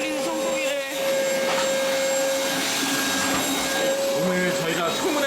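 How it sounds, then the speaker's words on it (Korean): A vacuum cleaner runs steadily with a loud, constant whine and airy roar close by indoors, while voices murmur faintly underneath. "청소기 한 번만 돌리겠습니다."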